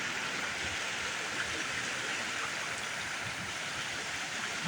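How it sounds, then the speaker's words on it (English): Water rushes from a waterfall into a stream outdoors, producing a steady broadband roar that stays constant from start to finish. "You can see right behind us, right there is the waterfall."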